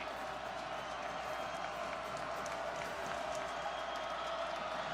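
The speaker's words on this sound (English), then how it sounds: "This crowd has been supporting this defense all day long." A football stadium crowd, Baylor at Texas Christian in 2013, roars steadily in a dense, sustained wash of cheering for the defense, moderately loud and continuous throughout.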